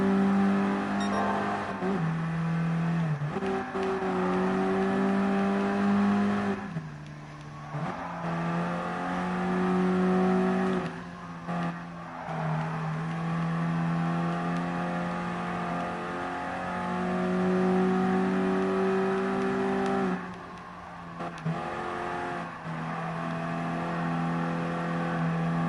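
A race car engine in Gran Turismo Sport holds a steady high drone, dipping and rising repeatedly as the throttle is feathered through a turn, loud and alone with no talk.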